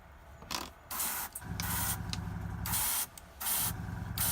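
An airbrush sprays a thin, glaze-like paint onto a miniature bust in repeated short bursts of hiss, close and fairly loud, with a low compressor hum running underneath.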